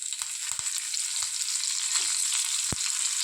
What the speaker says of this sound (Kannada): 1 ಟೇಬಲ್ ಸ್ಪೂನ್ ಕೊಕೊನಟ್ ಆಯಿಲ್ ಹಾಕ್ಕೊಂಡು ಸ್ವಲ್ಪ ಸಾಸಿವೆ ಮತ್ತು ಸ್ವಲ್ಪ ಇಂಗು ಮತ್ತು ಕರ್ಬೇವಿನ ಸೊಪ್ಪು